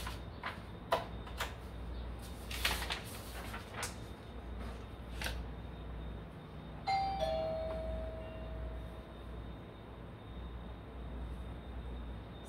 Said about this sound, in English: We got a doorbell going